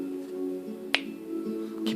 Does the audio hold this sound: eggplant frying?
no